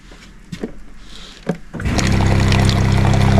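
Water running through a Jayco camper's plumbing during winterizing: a few faint drips and trickles, then a sudden steady rush of flowing water with a low pump-like hum underneath.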